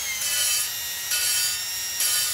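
A drill whirs in short repeated bursts, lapping an engine valve in an LS cylinder head, grinding and rubbing against metal in an even back-and-forth rhythm, fairly close with no talking.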